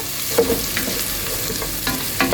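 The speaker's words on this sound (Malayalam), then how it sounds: "അതിലോട്ട് അരിഞ്ഞു വെച്ചിരിക്കുന്ന തേങ്ങാക്കൊത്ത് ആഡ് ചെയ്ത് കൊടുത്തിരിക്കുകയാണ്" Chopped coconut pieces frying with mustard seeds in hot oil for beef curry, a steady close sizzle with a few quick spatula scrapes and light pops.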